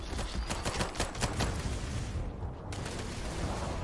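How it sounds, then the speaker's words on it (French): Starfield spaceship weapons firing in rapid, evenly spaced bursts of sharp blasts, loud and close, before the barrage thins into a denser rumble toward the end. "Il y a mon vaisseau qui tire aussi."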